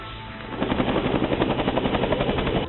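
Rented helicopter flying over a stadium at a circumcision celebration in Bursa, a loud steady rotor chop with rapid regular beating that swells in after a moment and holds close, no voices.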